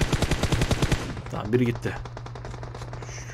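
Rapid bursts of automatic gunfire from the video game PUBG Mobile rattle out in a fast string at the start, then give way to scattered distant shots while a player talks over them.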